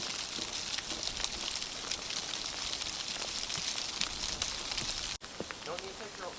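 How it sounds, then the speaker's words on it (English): Sleet and frozen rain pattering on leaves outdoors in a Maine riverside state park, a dense continuous crackle of tiny ticks and hiss, moderately close, with a brief dropout and a few louder rustles near the end. "The sleet or frozen rain makes quite a beautiful noise on leaves."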